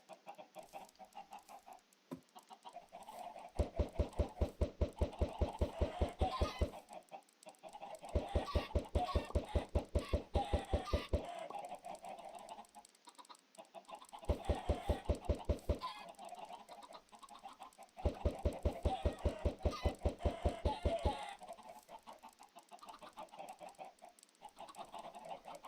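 Chickens in the Minecraft video game cluck in several short bursts of rapid, evenly pulsed calls, separated by pauses over a steady background hum, moderately loud and with no talking.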